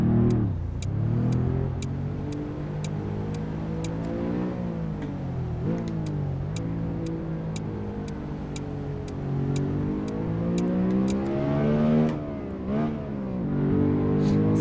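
A Murat 131 engine revs and pulls while driving through Istanbul, its pitch rising and falling steadily with the throttle, close and continuous, with a regular faint ticking over the top.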